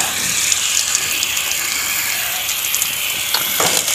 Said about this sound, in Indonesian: Siram dengan jenuh.